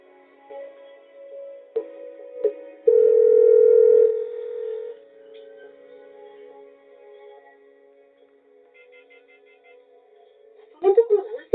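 A telephone ringback tone sounds for an unanswered call in an Indonesian TV drama scene, one steady tonal stretch standing out amid quieter background sounds and a brief voice.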